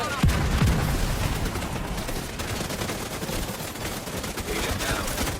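Sustained gunfire in The Division 2 game, a dense, continuous barrage of shots at steady loudness, with a brief voice callout near the start.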